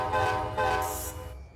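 Train parking brake releasing in the Run 8 rail simulator game, a short burst of loud tonal hiss and airy rush with a brief high whoosh at the end, close and alone.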